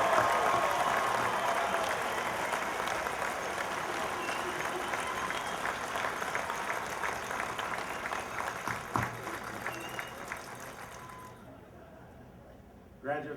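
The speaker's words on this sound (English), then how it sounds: "Won't you all please join me in one great round of applause for all of our graduates." A large audience at a college graduation ceremony applauds the graduates, a broad sustained clapping that slowly fades toward the end, moderately distant, with a faint voice or two beneath it.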